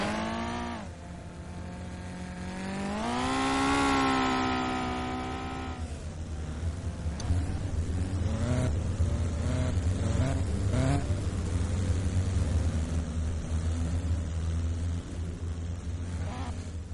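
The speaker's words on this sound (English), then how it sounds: "we're going green this time by Alberts, Brunig, Tyler Thomas, Mike McKinney" Simulated dirt-track race cars at the Tulsa Nationals rev and drone past in a sim racing game, engines rising and falling in pitch as they pass, then a steady layered roar of the pack.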